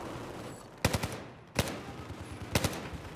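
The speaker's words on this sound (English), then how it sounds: "I'm shooting at the lights" Short automatic bursts of rifle and LMG fire ring out in Battlefield 4 on the Operation Metro map, played on PS4. Three quick rattling volleys crack out over a low room tone, with no talk.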